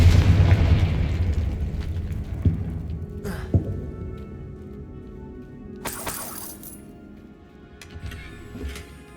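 Confringo blasting-spell explosions in Hogwarts Legacy: a rumbling opening, then several sharp bursts and a bright shattering crack midway, with softer pops and echoing debris fading out afterward.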